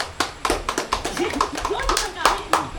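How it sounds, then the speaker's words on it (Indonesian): A congregation at an Easter church service applauds with loud, uneven hand claps, while voices, including a child's, carry on underneath. "Aplaus."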